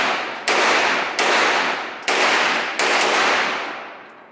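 Four loud, sharp gunshots at an outdoor gun range, fired at uneven intervals, each cracking hard and then ringing out in a long decaying echo.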